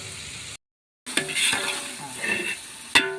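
Onions sautéing until golden in a pan for seeraga samba biryani: close sizzling with scraping stirs, a brief cut to silence, then busier stirring and a sharp clatter near the end.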